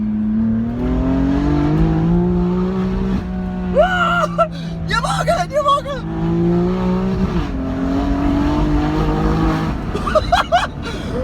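A BMW M3's exhaust roars and revs as it accelerates hard, the engine note climbing, while a person shouts excitedly over it.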